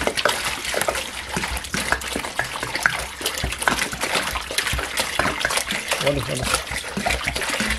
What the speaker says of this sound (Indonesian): Kita tuangin airnya ya.